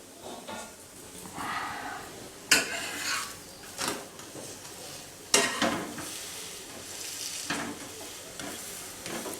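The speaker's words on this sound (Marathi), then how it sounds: "जशी आपली भाकरी भाजतो त्या पद्धतीने फ्राय चांगली भाजून घ्या." A Kolhapuri dhapate flatbread roasts in a pan with soft sizzling, while scraping and turning sounds come at intervals, close and quiet.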